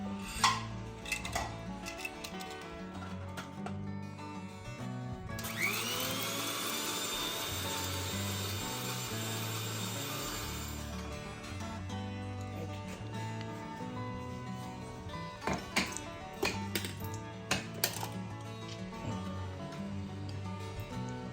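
A mixer grinder whirs steadily for several seconds, blending roasted spices into masala for chicken ghee roast, with clattering kitchen noise before and after.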